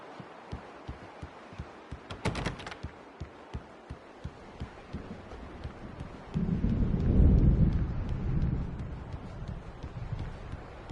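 Thunder rumbling low and heavy as a storm closes in within a video game, a long swelling roll building midway over a steady patter of rain and a brief crackle early on.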